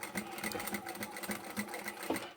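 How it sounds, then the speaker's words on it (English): A sewing machine backstitches across a seam where vinyl and fabric are joined for a two-toned upholstery bag, a steady rapid needle chatter running continuously and close up with no talk. "so I'm going to backstitch over that"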